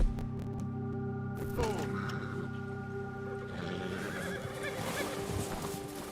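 A horse whinnies loudly in the video game Red Dead Redemption amid a tonal musical backdrop, followed by clopping hooves and scuffling that continue to the end.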